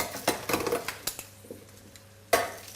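Roasting potatoes and carrots tossed in a metal oven pan, a handful of close, sharp clatters and scrapes in quick succession, with a final loud clank after a short pause.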